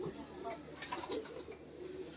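A pigeon coos softly in a breeder's loft in Karachi, low murmuring calls mixed with a faint background tone and light ambient noise.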